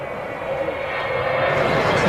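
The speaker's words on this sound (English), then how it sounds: "And those engines have a sound that anyone who's ever heard a Vulcan before instantly recognizes." Avro Vulcan jet bomber engines, a loud, steady roaring drone with a sustained tonal whine that swells slightly in volume over the short stretch.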